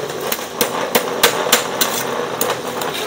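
A concrete block forming machine for 25 cm column blocks vibrates loosely packed mix, giving a steady rattling buzz broken by sharp periodic knocks about every third of a second, close and fairly loud.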